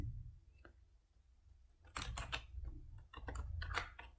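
Keystrokes on a computer keyboard while Bengali text is entered in MS Word on Windows 10, a few scattered clicks early on, then two denser bursts of rapid typing, close and fairly quiet with no talk.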